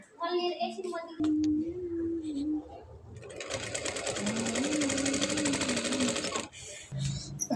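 A sewing machine stitches the edge of a belted blouse in quick rapid-fire bursts, a loud rattling run in the middle, while someone talks before and between the stitching.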